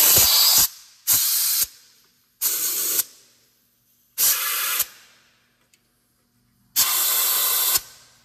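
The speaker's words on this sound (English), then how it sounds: "I am now gonna use compressed air to just blow out these bolt holes." Compressed air blasts out bolt holes during a water pump replacement on a 2017 Toyota RAV4 Hybrid, five sharp hissing bursts with short silent gaps between them, loud and close.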